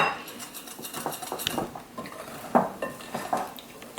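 Plantain pancake batter being folded in a mixing bowl: a utensil scrapes and clinks against the bowl in irregular strokes, fairly close and moderately quiet, with no voices.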